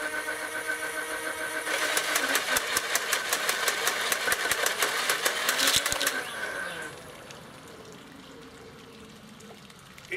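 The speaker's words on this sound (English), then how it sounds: "And now firing full auto down range." X-Shot Insanity Ragefire gatling dart blaster fired on full auto, a fast, evenly spaced rattle of shots for about four seconds over a motor whir that then winds down.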